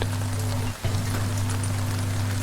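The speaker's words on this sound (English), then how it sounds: "Outside, the rain deepens." Rain falling outside in a steady, dense patter over a low constant hum, briefly dipping before resuming evenly.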